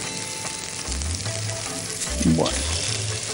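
Carrot and prawns fry in a wok with a loud, continuous sizzle close by, while a voice briefly says one word.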